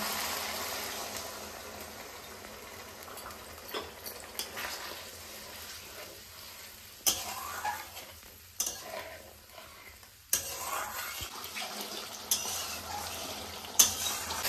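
Masala with chopped tomato and spice paste frying in a pan for ghugni, a quiet steady sizzle punctuated by several sharp spoon scrapes and clanks as it is stirred, no talking.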